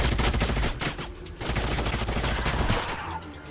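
Gunfire in the strategy game Age of Wonders: Planetfall: a loud, continuous rattling fusillade of rapid shots with a short lull near the middle, heard alone without talk.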